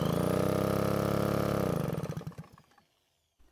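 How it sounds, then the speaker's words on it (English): A RedMax backpack blower engine is spun over by a drill for a compression test, making a loud, rapid, even mechanical whir that slows into separate chugs and then stops. "Next, I'm going to install the tester into the engine, spin it over with the drill,"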